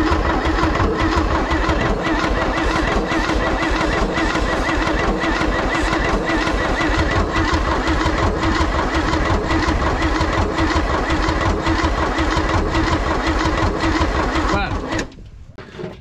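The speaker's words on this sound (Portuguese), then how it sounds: "Tá estranho o barulho desse motor aí." A Chevrolet Opala engine starts and runs rough with a loose, rattling clatter, loud and steady for about fifteen seconds before cutting off, with voices speaking over it.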